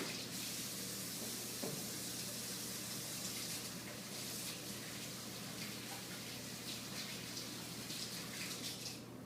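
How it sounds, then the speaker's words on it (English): A kitchen tap runs steadily while hands are washed, a continuous close hiss of water with slight splashing variations and no talk. "I'll go ahead and wash my hands."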